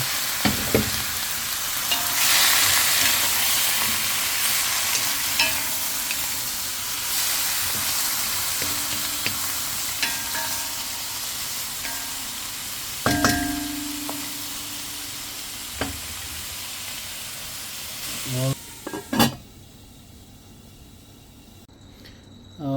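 Chicken pieces hiss and sizzle loudly in a hot pan for tinola while a utensil stirs and scrapes through them, the frying dying down near the end with no one speaking.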